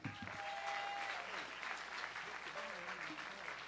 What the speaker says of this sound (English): Give a nice round of applause for Rockin'